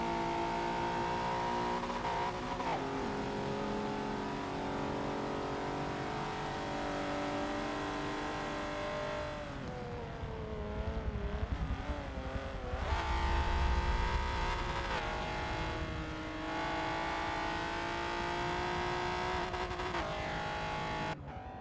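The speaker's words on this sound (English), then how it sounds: "Just waiting for the few final cars now to actually make it their way to the finish line." Historic touring race cars run toward the finish line at a circuit, their engines droning and revving continuously, rising and falling as they pass, with occasional tire squeal and no talk.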